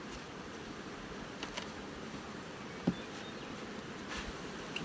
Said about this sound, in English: this colony too, the bees are nicely spread across the top.